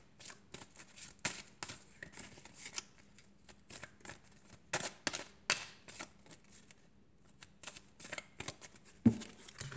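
Tarot de Marseille cards are shuffled by hand in quick, crisp riffling bursts, close and fairly quiet, with short pauses between passes.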